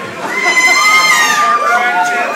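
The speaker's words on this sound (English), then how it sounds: "Come on, girls, scream for him." Girls scream at a party during a freestyle performance, a loud high-pitched chorus of shrieks and shouts rising and falling across the short stretch.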